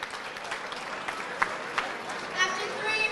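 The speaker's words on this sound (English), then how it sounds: "Both fighters getting a round of applause off everyone" A crowd applauds both boxers after a three-round amateur fight, a steady wash of clapping and cheering that holds evenly throughout, with a few louder shouts rising near the end.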